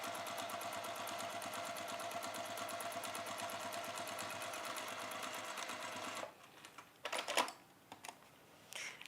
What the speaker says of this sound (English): So just top stitch all of that down.